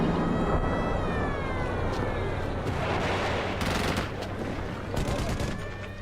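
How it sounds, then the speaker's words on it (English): Jordanian guns and mortars shell Jerusalem in dense, rattling gunfire that crackles continuously for about six seconds, with sharper volleys near the end over a wailing siren-like tone in the background. "Jordanian guns and mortars start to shell the Israeli half of Jerusalem."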